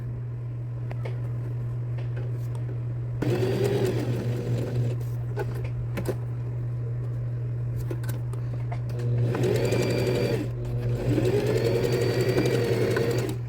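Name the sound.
sewing machine stitching fabric for a chocolate holder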